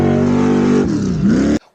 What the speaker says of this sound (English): So right at 7 a.m. at the crack of dawn, they start launching the cars.